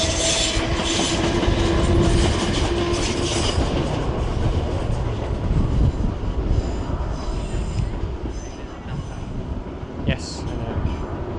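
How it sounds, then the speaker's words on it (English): Trains passing through Clapham Junction, including Southern Class 455s, rumbling steadily and close, with wheels squealing high early on and rhythmic rail clatter throughout; a sharp metallic squeak stands out near the end. "There's about 4 different trains heading in different directions."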